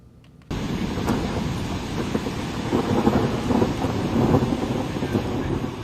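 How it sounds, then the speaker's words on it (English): Low rolling thunder from a storm over flooded roads, a steady broad rumble that swells and sustains across the whole stretch after a sudden start, with no voices. "You hear that thunder?"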